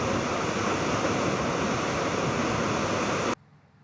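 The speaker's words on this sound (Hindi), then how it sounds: "लहरों का शोर सुनिए और आनंद लीजिए। नदी, बहती हुई नदी कितनी प्यारी लग रही है।" Steady, loud rush of flowing river water with surging waves, continuous and alone without any voices, cutting off abruptly near the end into near silence.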